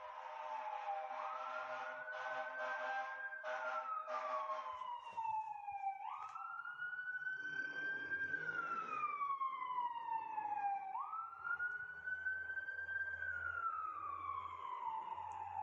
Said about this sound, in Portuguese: E só eu gravar um episódio que passa uma ambulância.